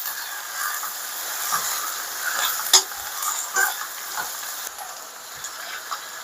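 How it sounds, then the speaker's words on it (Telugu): Capsicum and meal maker curry with turmeric and ginger garlic paste being stirred in a pan, a steady soft sizzle and hiss with scraping spoon strokes and light clinks against the pot, no talking. "సో ఇలా వేసాక చక్కగా కలిపేస్తున్నాం"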